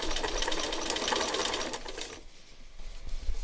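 A sewing machine stitches two bias fabric pieces together in a fast, close, continuous mechanical whir, stopping abruptly about two-thirds of the way through before a short restart.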